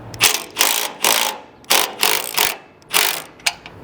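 Ratchet loosening an X axis belt tensioner bolt on an R300 or ProSlab harvester: close, crisp clicking bursts in quick back-and-forth strokes, about eight in a few seconds, with no talking.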